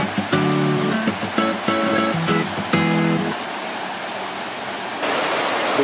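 A river flows in central Evia, Greece, giving a constant rushing wash of water. Short tonal, pitched sounds come and go over it in the first few seconds, then the water continues alone.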